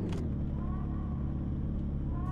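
A steady low car engine drone in Garry's Mod rumbles continuously at moderate volume, with a faint rising whine and a couple of brief clicks.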